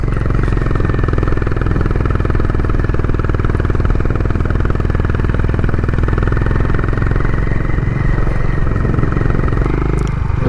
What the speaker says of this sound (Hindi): भाई को सेकंड गियर पे भी कितनी आवाज़ कर रही है